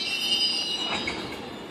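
An eastbound GO Train commuter train approaching, with sustained high-pitched wheel squeal over a steady rail rumble, loud and close throughout.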